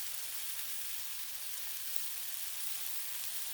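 Steady sizzle of a burger's top bun pressed flat onto a hot Blackstone griddle beside beef and mushroom burgers, a continuous even crackle at close range with no talking.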